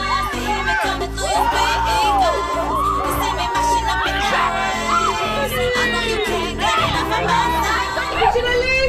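Loud crowd of children shouting and whooping at an outdoor survival run, a dense continuous roar of many young voices with cheering bursts throughout.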